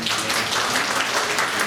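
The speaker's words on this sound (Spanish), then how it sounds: "Aquí empieza este aplauso." An audience at a talk on accelerated learning bursts into dense, sustained applause, many hands clapping loudly and close with no pauses.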